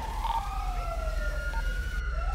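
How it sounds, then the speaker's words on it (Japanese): Ambulance siren in a GTA roleplay game, a wailing tone sweeping up and down continuously over a steady low rumble, sounding somewhat distant. "救急隊の音も入ってるわ"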